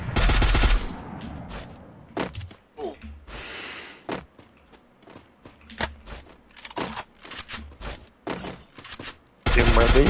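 Rapid bursts of automatic gunfire crackle back and forth in a shooting video game, sharp clustered shots separated by brief lulls, with a player's voice breaking in between volleys.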